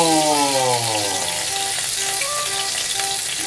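Hamburger steak patty frying gently in a pan over low heat, a steady soft sizzle with faint bubbling pops running throughout, close and continuous with no talking.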